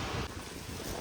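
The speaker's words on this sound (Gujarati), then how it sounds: "અહીંયા પવન એટલો બધો છે" Strong wind buffets the microphone outdoors in the dark at a temple courtyard, a loud continuous rumbling roar with no voices.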